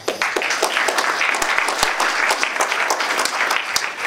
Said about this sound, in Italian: Ed è a loro che vorrei fosse fatto un applauso importante